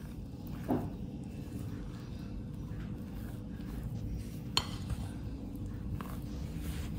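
Cookie dough with flour, for Arab ka'ak biscuits, stirred in a bowl: quiet scraping and soft knocks of a utensil against the bowl, with a couple of sharper clinks, no voices.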